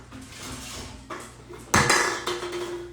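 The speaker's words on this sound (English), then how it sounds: "I'm gonna grab the air fryer." An air fryer being grabbed and handled in a home kitchen, with quiet shuffling followed by a couple of loud metallic clanks and bangs of the basket and pan, close by, no talking.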